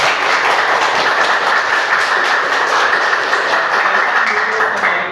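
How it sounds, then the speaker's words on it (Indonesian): Loud, dense clapping from a whole class fills the room, a continuous close wash of hands that holds steady and cuts off at the end. "Tepuk tangan dulu kita semua."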